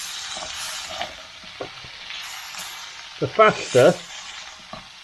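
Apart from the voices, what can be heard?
lambs' liver frying in a pan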